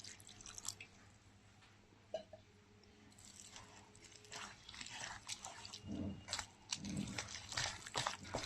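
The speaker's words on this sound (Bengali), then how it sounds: "অল্প অল্প জল দিচ্ছি।" Water added little by little into a bowl of palm-fruit batter for pitha, soft intermittent trickles and drips with quiet sloshing mixing, close and faint, no talk.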